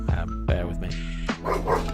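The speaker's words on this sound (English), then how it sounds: "which is why he's just got up, and you might be able to hear him barking" A pet dog named Daruk barks and yips at a noise outside, several short close barks with a whimpering edge, while a person speaks briefly over them.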